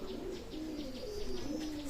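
Pigeons of a Pakistani breed at a pigeon sale, cooing in soft, low, repeated warbling calls close by, with faint chirps above.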